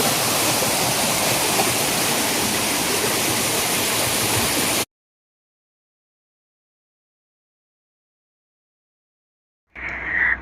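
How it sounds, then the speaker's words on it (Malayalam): A small waterfall with water falling fast, a loud, steady, close rushing splash that cuts off abruptly partway through, followed by silence and then a brief return near the end. "പെട്ടെന്ന് വെള്ളം കൂടിയാൽ നല്ല അതിലും നല്ലോണം സ്പീഡിൽ വെള്ളം വീഴും"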